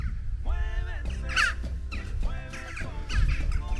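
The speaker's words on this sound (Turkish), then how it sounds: "104 tane karga var. Karga bahçesi herhalde burası." A large flock of crows caws repeatedly in a garden near an olive grove in Ayvalık, Turkey, with loud, harsh, overlapping calls that come in bursts close by.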